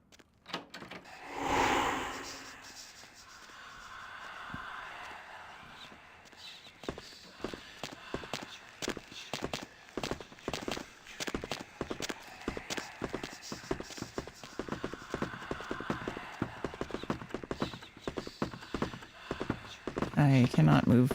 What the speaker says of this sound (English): I can't tell how far he is away because his footsteps are just so freaking loud.